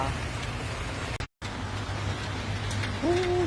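Steady rain falls under a dark, overcast sky outdoors, a continuous broadband hiss with a brief dropout partway, and a short tonal sound rising near the end.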